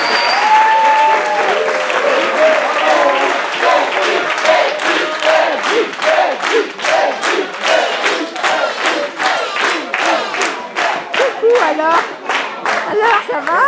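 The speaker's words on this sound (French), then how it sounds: "On peut l'applaudir Edwige." Wedding guests applaud loudly and steadily for several seconds, the claps later falling into a rhythmic unison beat, with scattered cheers and voices in the crowd.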